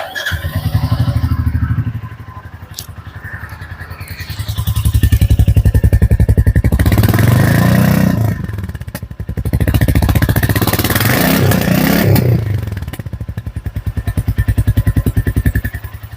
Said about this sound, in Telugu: దీని ఎగ్జాస్ట్ నోట్ అయితే ఇలా ఉంది.